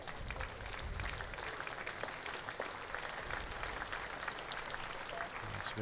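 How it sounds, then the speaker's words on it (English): Steady ripple of applause from a cricket crowd at Edgbaston during a Warwickshire versus Durham one-day match, continuous broad clapping filling the whole stretch with distant crowd murmur beneath, no single claps standing out. "ripple of applause"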